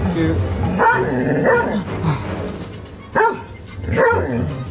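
A dog barks several times in short yips and woofs, close by, mixed with a person's voice talking over it.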